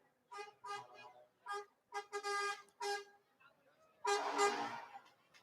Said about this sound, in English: You don't even try to compete to talk against an air horn.